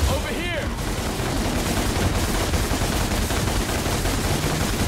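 Gunfire from Dante in the video game Devil May Cry comes as a dense, continuous barrage of rapid shots that fills the whole stretch, loud and steady.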